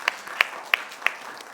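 Sparse, separate claps from a church congregation during a Sunday service, four distinct sharp hits spaced evenly at moderate volume over faint room tone, with no talking.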